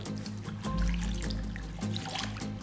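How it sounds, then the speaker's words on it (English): Milk, one cup, poured into yeast in a bowl makes a steady gentle trickle and splash of liquid over a background hum, with no voice heard. "I'm going to add the milk. This is 1 cup of milk, 220 milliliters of milk."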